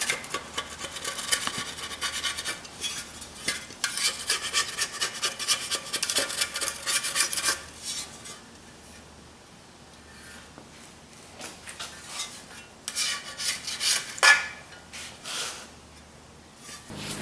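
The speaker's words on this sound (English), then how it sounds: "Once the rest of the sealant has been scraped off," A scraper rasps old sealant off the differential cover pan of a Ford F150 in repeated close, gritty strokes, steady at first, then a quieter pause followed by a few more scrapes and a sharp scratch, with no talking.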